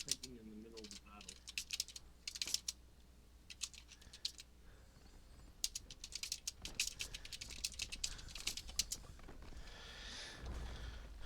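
Rapid clicking keystrokes on a computer keyboard while playing the MMO Dungeons & Dragons Online, coming in uneven bursts, fairly close, with game sounds and some voice underneath.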